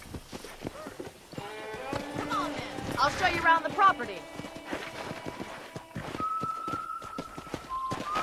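Horse hooves clip-clop at an unhurried walk in the Western video game Red Dead Redemption, an irregular patter of steps running beneath character dialogue that carries on over them.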